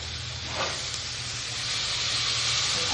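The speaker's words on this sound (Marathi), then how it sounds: "बटाट्याच्या फोड्या टाकायच्यात" Chopped potato pieces hit a hot oiled pan with turmeric and spices for a potato bhaji, giving a steady, close sizzle and hiss that holds for a few seconds with no talking.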